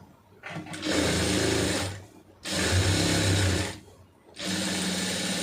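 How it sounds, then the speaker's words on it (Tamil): Sewing machine stitching a large blouse sleeve, running in three steady bursts of rapid whirring with brief pauses between, close and clear with no talk. "இது தைக்கிறதுக்கு காலிஞ்சி தள்ளியே தையல் போட்டுருங்க"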